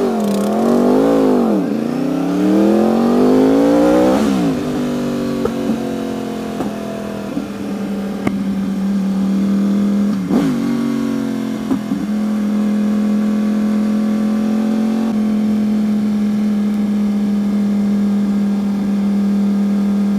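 A small motor scooter engine revs and drones steadily, its pitch rising and dipping through several blips before settling into a loud, even idle-like hum.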